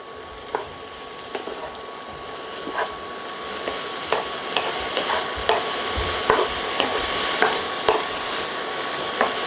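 Broccoli stir-fried in a pan for crispy cake noodles with chicken and vegetables: a steady close sizzle runs throughout, broken by repeated sharp taps and scrapes of the spatula against the pan, with no talking.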